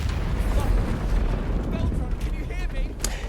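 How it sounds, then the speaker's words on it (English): A loud explosion in Baldur's Gate 3 rolls out as a heavy, rumbling boom, crackling debris bursts trailing over several seconds. "so let's blow it up"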